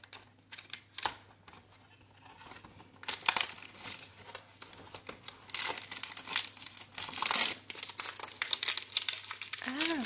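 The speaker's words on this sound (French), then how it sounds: "Et je vais ouvrir le calendrier de chez Lidl." Crinkling and tearing of packaging while a Lidl advent calendar is opened, close and fairly quiet at first, then busier rustling with irregular bursts of crackling plastic and paper, under a steady low hum.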